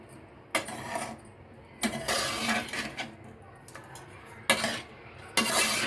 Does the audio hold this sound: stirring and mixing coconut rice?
yes